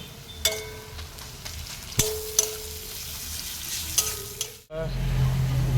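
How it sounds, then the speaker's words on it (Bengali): Onions, then garlic, fried and stirred in a pan for a goat meat curry: a steady close sizzle broken by sharp scrapes of the spatula about every two seconds, with one louder clatter and a burst of sizzle near the end. "পেঁয়াজ ভাজা হয়ে গেছে, এরপরে দেবো রসুন।"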